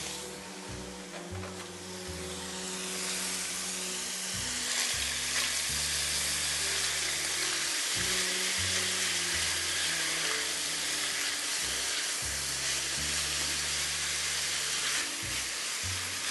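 Diced ham sizzling steadily in a hot pan while cooking shrimp and spinach dressing, a loud continuous fry with stirring scrapes and low rhythmic kitchen hum underneath.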